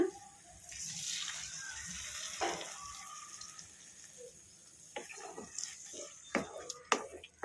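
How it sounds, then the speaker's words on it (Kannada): Soaked, squeezed tamarind water poured into a masala for a vegetable-free curry, a soft splashing pour with light clinks of kitchenware, fairly quiet and close. "ಈಗ ಈ ಹುಣಸೆ ಹುಳಿಯನ್ನು ಈ ಮಸಾಲಾಗೆ ಹಾಕ್ಕೊಂಬಿಡೋಣ"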